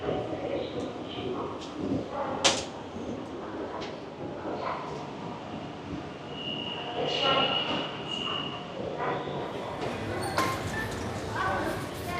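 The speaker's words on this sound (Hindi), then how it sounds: "मेट्रो का एक्सपीरियंस हमारा बहुत अच्छा रहा" Steady rumble of a metro train in motion in China, with a brief metallic squeal, door and rail noises, and people talking quietly in the carriage.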